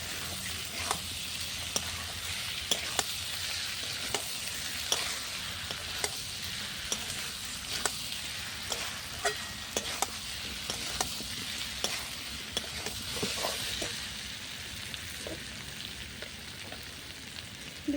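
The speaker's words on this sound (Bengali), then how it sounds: "পরিমাণ মতো দেবো নুন, ভালো করে সমস্ত মশলা কষিয়ে নেব।" Spices and salt being stir-fried in a pan on a clay stove for an egg and potato curry: a steady, close oil sizzle with frequent sharp scrapes and clicks from a stirring spoon, with no talking.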